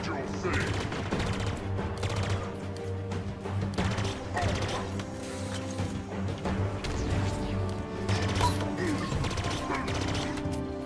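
Repeated gunfire from a video game boss fight against Chak' Lok, a steady stream of sharp shots and impacts over layered game sounds, with brief talk mixed in.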